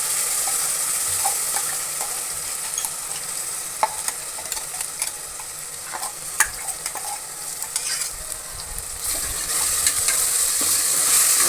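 Ground masala paste and peas fry in an oil-filled pan for wedding-style vegetable pulao, a steady close sizzle with scattered stirring clicks and scrapes, brightening near the end.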